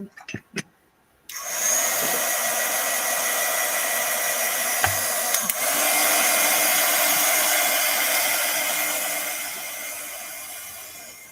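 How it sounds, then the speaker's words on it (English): A heat tool dries a card-making project, starting after a few brief clicks and then blowing a loud, steady whirring rush of air for about ten seconds. "I'm going to do a little bit of light drying here."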